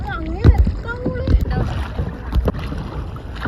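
A boat travels on the sea off Lakshadweep. A steady rush of water and wind runs throughout, partly under a person talking close by.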